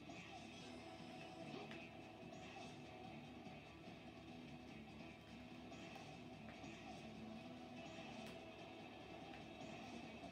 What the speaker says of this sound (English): it's like the train is unbelievably slow